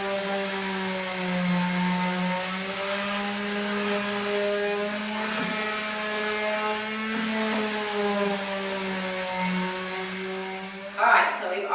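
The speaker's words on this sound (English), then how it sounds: "So we're just going to go ahead and sand our slats." Power sanding of pallet wood slats with coarse grit sandpaper, a steady droning whine held almost unbroken for about eleven seconds before cutting off near the end, loud and close with no talk.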